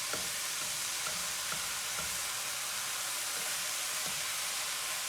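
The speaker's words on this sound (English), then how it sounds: "stirring it in, just like you would normal mince, really" Vegan mince being stirred and broken up in a hot pan, with a steady close sizzle and frying hiss and a few soft scraping knocks of the utensil.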